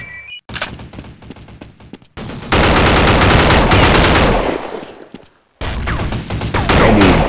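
Rapid automatic fire from the CROW-7 rifle in Counter-Strike Online comes in loud sustained bursts with short gaps between them, dense and close.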